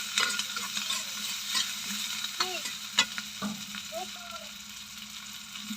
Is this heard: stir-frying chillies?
yes